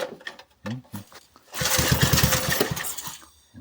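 A Kirsch petrol generator under repair starts up and runs unevenly after a few brief knocks and a short voice. Its engine then settles into a loud, rough, steady chug.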